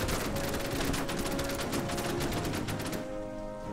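Steady rapid gunfire from the tactical war game Order of Battle: US Marines, a dense continuous rattle of shots that cuts off near the end.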